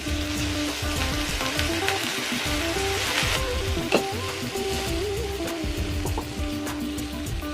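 Water poured into a pan of ridge gourd masala, Uttara Karnataka style, sets off steady, close, loud sizzling and bubbling that continues evenly throughout with no talking.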